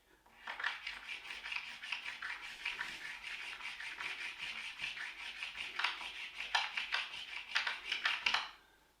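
A 50p coin rubbed back and forth across water-based gloss paint, a close, quiet scratchy rasping in quick repeated strokes that builds toward the end and then stops.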